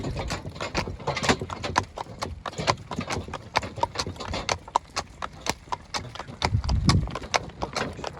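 A calm mare's hooves clip-clop in a steady, even walking rhythm on a hard surface, close and distinct, with faint voices and a brief low rumble near the end.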